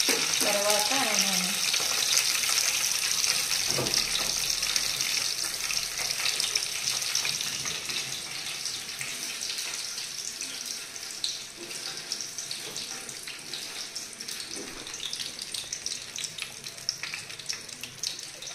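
Tap water runs steadily in a home kitchen as ingredients for palli chutney and pesara dosa are washed, a continuous close splashing hiss that carries on throughout, with a brief bit of background clatter.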